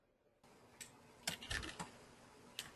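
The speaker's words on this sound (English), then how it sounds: "Somebody's typing." A few scattered keystrokes on a computer keyboard, soft clicks heard alone at moderate distance, with two or three sharper taps clustered near the middle.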